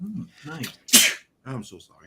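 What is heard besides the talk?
sneeze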